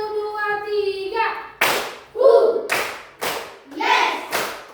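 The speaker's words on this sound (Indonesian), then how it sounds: "Kita ice breaking dulu, tepuk semangat ya." A primary-school class plays a rhythmic clapping ice-breaker game: a teacher calls out, then the children answer with sharp, close group claps in a counted pattern, several separate bursts with voices shouting between them.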